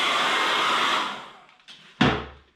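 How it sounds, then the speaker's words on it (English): A hair dryer blows steadily on acrylic paint for about a second, then its noise tapers off, followed by a short knock and a sharp thump near the end. "I'm just going to hit it with a hairdryer for"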